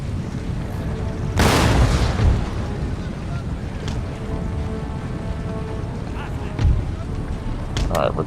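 Cannon fire in a Total War Empire battle with Russian forces, a heavy booming blast followed by a rolling rumble and further distant thuds, under talking.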